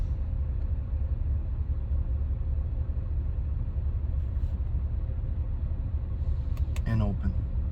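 Car with a straight pipe exhaust idling at a standstill with its exhaust valve closed, heard from inside as a steady, low, even rumble; a voice speaks briefly near the end.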